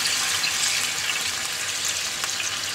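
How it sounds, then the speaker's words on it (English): Half a glass of water poured into a hot cooking pan with wine and gurnard fish for paccheri, giving a loud, steady hiss and sizzle of liquid hitting the pan. "After 2 minutes, let's add some one glass of water."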